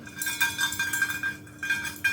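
Repeated metallic clinks as an object is shaken inside a bowl, a steady rattling rhythm with bright ringing tones, close by.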